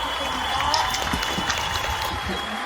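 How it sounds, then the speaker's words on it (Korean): An audience at a traditional Korean village cultural event claps, a short, busy burst of dense clapping mixed with crowd murmur and a faint steady tone behind it. "박수 한번"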